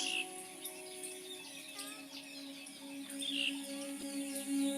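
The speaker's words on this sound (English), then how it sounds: "I see that there are birds from where the sounds are coming." Several birds chirp and twitter faintly over a steady background hum, scattered calls coming and going without a clear rhythm.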